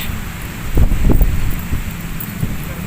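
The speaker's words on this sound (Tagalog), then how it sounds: "mahangin siya." Wind gusts buffet the microphone in low rumbling bursts, swelling and easing, with a steady airy hiss beneath, on the baywalk along Manila Bay.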